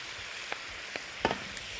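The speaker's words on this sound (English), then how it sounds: "It's sizzling away." Beef stir fry in a pan sizzles with a steady hiss, broken by a few soft clicks and scrapes as it is tossed in sauce.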